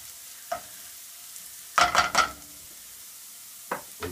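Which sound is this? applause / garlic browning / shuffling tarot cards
garlic browning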